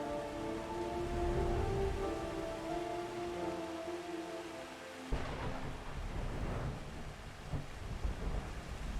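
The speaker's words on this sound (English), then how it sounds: "Oh, thunderstorm." A thunderstorm in the video game Final Fantasy XIV: low thunder rumbles under steady rain while a soft musical tone sustains early on, with a fresh crack of thunder midway.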